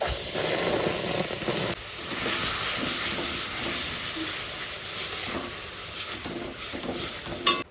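Palm fruit pulp hitting a hot wok gives a steady, loud hiss and sizzle that fills the whole clip, with a short dip near the two-second mark and a sharp clatter at the very end.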